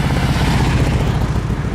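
A motorcycle passes on a residential street, a brief dense engine rumble that stays loud and close for under two seconds.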